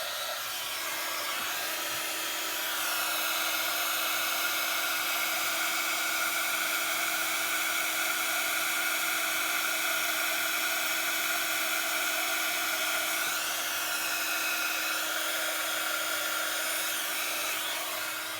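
A heat tool blows hot air over a monochrome paper card, a steady, close whooshing hiss with a constant motor whine that holds through the clip, with no talking.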